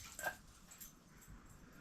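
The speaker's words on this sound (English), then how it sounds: "There's a shop dog come out." A dog in a workshop gives a short, high whimper near the start, then the space stays faint and quiet.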